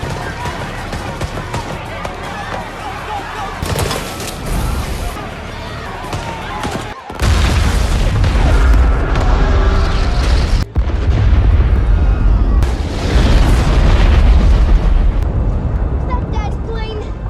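A large explosion from leaking aircraft fuel in a film erupts into a sustained roaring boom with rumbling bursts, set among loud film sound and talk.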